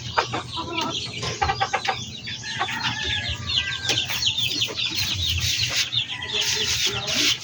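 Chickens cluck and call repeatedly in a backyard, hens and roosters close by with busy overlapping bursts above a steady low rumble.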